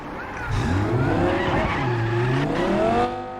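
A car in Cyberpunk 2077 revs and drives off with a rising engine whine and tire squeal, loud and close, surging and sweeping through gear changes for about three seconds.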